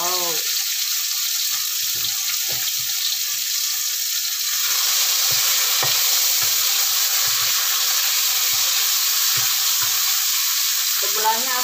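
Spices fried and stirred in a pan just after fried snapper is lifted out, a steady close sizzle with scraping strokes running for about twelve seconds without talk.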